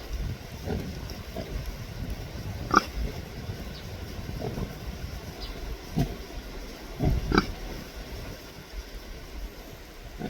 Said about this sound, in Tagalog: Dito yung mga baboy natin, no?